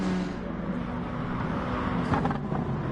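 Touring race cars, a Peugeot among them, race down a straight in a sprint race, engines droning loud and close with a rising pass near the end.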